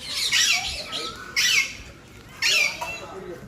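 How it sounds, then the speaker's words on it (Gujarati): Parrots at Junagadh zoo give three loud, harsh squawk bursts in quick succession, separated by short pauses of quieter background. "નકરા પોપટ કકરાટ બહુ કરે"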